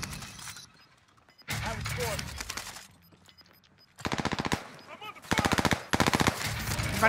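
Automatic gunfire from the video game Warzone comes in several rapid, loud bursts separated by short quiet gaps, with mechanical clatter in between.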